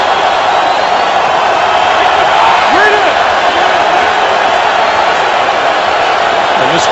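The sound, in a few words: football stadium crowd cheering at Bengals game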